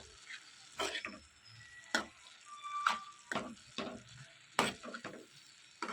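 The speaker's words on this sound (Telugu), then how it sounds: "ఇలా మొత్తం అంతా కూడా బాగా మిక్స్ చేసేసుకుని ఫ్రై అయ్యేంత వరకు కూడా ఇదంతా వేయించుకోవాలి" Amaranth leaves being stir-fried with salt in a pan, a soft sizzle broken by repeated loud scraping strokes of a spatula at a steady rhythm, close and with no talking.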